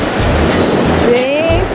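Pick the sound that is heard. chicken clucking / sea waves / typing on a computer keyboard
sea waves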